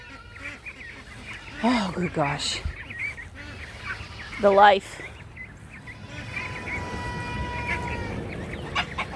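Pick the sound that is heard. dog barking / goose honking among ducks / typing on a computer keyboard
goose honking among ducks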